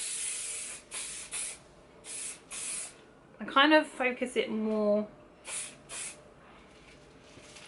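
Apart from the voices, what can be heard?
hairspray being sprayed onto hair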